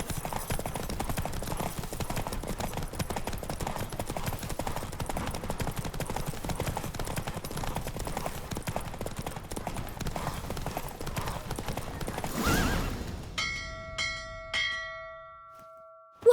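Racing horse in The Witcher 3 pounds along at a gallop for most of the stretch, steady hoofbeats under game music, then the rush fades out and a few ringing bell-like tones sound near the end.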